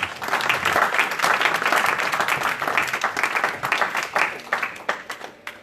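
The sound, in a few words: applause in church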